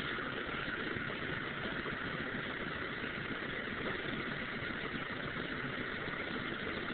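A John Deere tractor engine idles steadily on a farm while unloading a haybine, a continuous even rumble with no breaks, moderately distant and fairly quiet.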